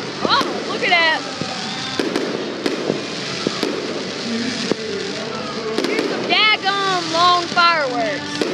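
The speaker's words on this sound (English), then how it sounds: "Long fireworks." Fireworks burst and crackle repeatedly at an outdoor display, loud sharp bangs scattered through the clip with whistling rising trails, while excited spectators talk and cheer over wind noise.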